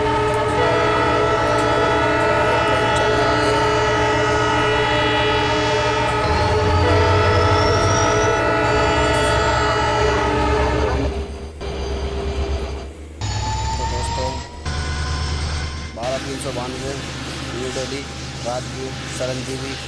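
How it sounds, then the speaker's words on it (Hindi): The Shramjeevi Express (train 12392, New Delhi to Rajgir) pulls away from the station, with a loud, steady rumble of rolling stock and a sustained horn tone. The sound shifts and drops out in bursts partway through as the train gathers speed. "चिरंजीवी सुपरफास्ट एक्सप्रेस जो हमारी ट्रेन है वो चल चुकी है।"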